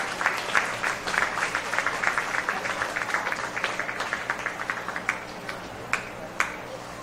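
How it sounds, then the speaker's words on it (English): An audience at a county fair beef cattle show claps in a sustained round of applause, moderately distant, tapering into a few scattered final claps. "Give them a round of applause."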